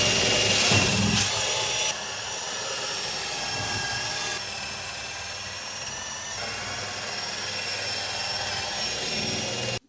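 Power tool spun at top speed to scrub a filthy oven, a loud continuous high whine and buzz holding steady throughout, with slight shifts in pitch as pressure changes.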